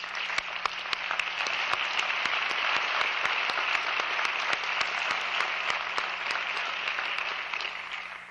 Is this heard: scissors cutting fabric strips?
no